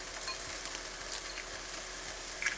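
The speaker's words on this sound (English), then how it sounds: "in goes the onions. Just going to cook this for 3-4 minutes." Chopped onions fry in oil in a pan, a steady close sizzle with a faint stir near the end and no talking.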